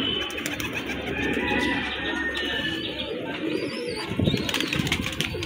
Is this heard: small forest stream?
no